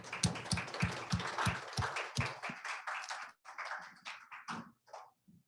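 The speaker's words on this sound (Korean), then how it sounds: "박수로 격려하도록 하겠습니다" A church congregation at a youth worship service applauds, dense clapping at first that thins into scattered individual claps before fading out.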